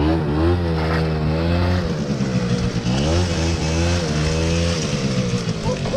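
A quad bike engine revs hard and steadily up close, its pitch rising and falling in repeated throttle pulls, loud and continuous with no talk over it.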